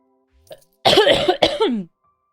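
A brief throaty cough close to the microphone: a quick intake, then two harsh bursts in a row, followed by silence.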